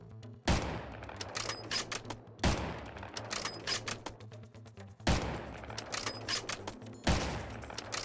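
Four sharp sniper rifle shots in Minecraft, each a loud sudden crack spaced about two seconds apart, followed by rattling clicky reload and game effect noises between them.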